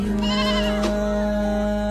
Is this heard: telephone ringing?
no